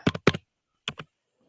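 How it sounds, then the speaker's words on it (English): Typing on a computer keyboard while looking up a name online: two quick bursts of close, crisp key taps separated by a short pause, then quiet. "I'm typing it in now."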